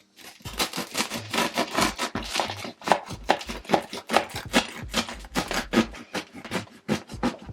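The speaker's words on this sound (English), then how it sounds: "Let's cut this bread." A knife saws through a loaf of homemade sourdough bread in a steady run of quick, crisp strokes. Each one rasps briefly against the crust, close and fairly loud, with no talking.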